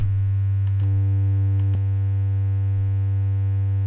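A steady, heavily distorted low synth drone from Ableton's Overdrive effect with a notch filter hums continuously with a filtered, slightly hollow tone, punctuated by a couple of faint clicks.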